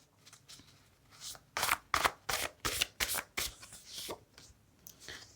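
A deck of cards is shuffled close by, a run of quick riffling bursts with crisp, papery flutters that rise and fall in rhythm before tapering off.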